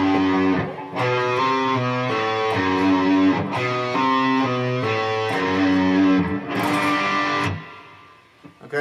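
A distorted electric guitar plays the rhythm part of Journey's "Stone in Love": steady strummed power chords that change roughly every second, played loud with no voice over them, then cut off abruptly near the end.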